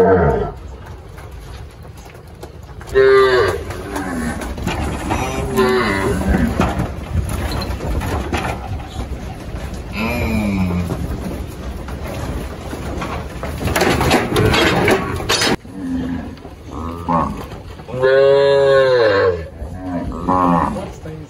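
Cattle moo repeatedly and loudly, long drawn-out calls from several animals, while cows are sorted in a pen on a farm; birds coo in the background and people speak in between.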